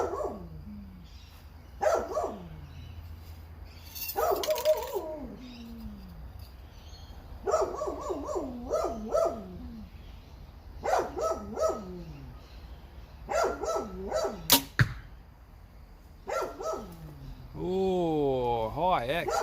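A dog barks repeatedly in bursts of harmonic woofs and yelps, fairly near and loud, with pauses between volleys, outdoors at a competition archery range.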